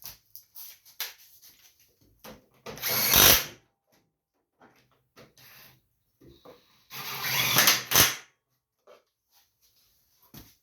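A power tool drives the spindle bolts on a John Deere LA145 riding mower deck in two short bursts of whirring, with faint clanks and handling noises in the quiet gaps between.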